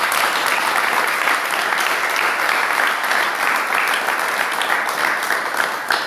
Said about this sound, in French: Applaudissons pour le Seigneur.